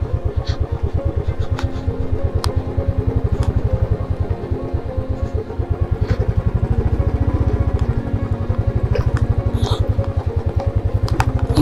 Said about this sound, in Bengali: কাদায় কাদা কাদায় কাদা, চাকা স্কিড করছে।